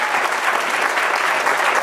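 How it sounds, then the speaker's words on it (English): Wedding reception guests clap together in steady, dense applause that holds at an even level throughout, with no voices standing out. "can I give one more round of applause for Steve and Peter as well?"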